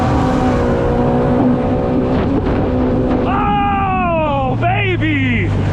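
A Yamaha GP1800R jet ski accelerates hard from standstill toward 60 mph, its engine roaring loud and close, pitch climbing in rapid rising sweeps as it surges forward over water.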